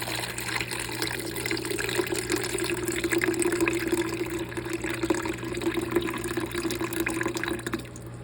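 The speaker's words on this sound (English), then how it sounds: "So I don't want to lose the rice, so I'm pouring it in a strainer." Water and raw rice poured into a strainer for rinsing, a steady close rush of running, splashing water that fills the whole stretch with no talk.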